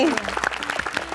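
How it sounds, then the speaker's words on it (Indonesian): Studio audience clapping on a family TV program set, a brief patter of applause mixed with voices over it. "kita kasih tepuk tangannya"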